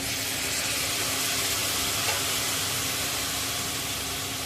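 Constant loud sizzle and hiss of black fish hitting hot Agri masala in a pan, steady throughout without talk.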